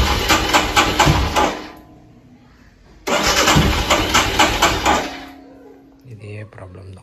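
A Royal Enfield Himalayan motorcycle with a starting fault cranks on its electric self-starter in two loud, close bursts of several seconds each, separated by a pause, with a voice talking afterward.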